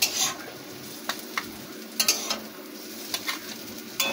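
Taro stems frying in a pan with a soft, continuous sizzle, punctuated by several sharp scraping and clinking stirs of a spatula against the pan, fairly quiet and close.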